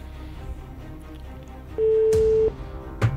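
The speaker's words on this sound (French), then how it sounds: "Première sonnerie." A single steady telephone ring tone sounds over a call line, lasting under a second amid faint background noise and a couple of sharp clicks.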